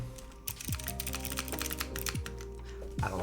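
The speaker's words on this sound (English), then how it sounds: "Kind of weird hearing a Geonworks board that isn't clacky." Rapid typing on a Geonworks F1-8X mechanical keyboard, a close, quick run of muted key clicks with a few heavier spacebar thocks, over a faint background tone.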